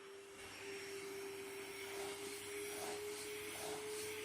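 AQUA VIVA 2 dust mite vacuum cleaner motor running steadily with a strong airflow rush and a constant tonal hum, close and continuous with no talk.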